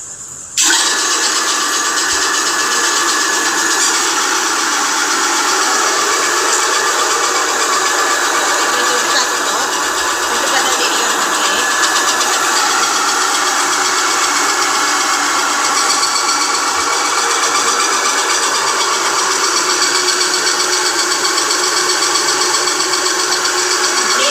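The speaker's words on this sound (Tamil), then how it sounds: "இந்த இன்ஸ்டன்ட் மிஷின்ல நான் மாவாட்டி முடிச்சுட்டேன்" An instant wet grinder machine grinding idli batter runs with a loud, steady motorized whir and churning, starting abruptly and holding constant for over twenty seconds, close up with no talking.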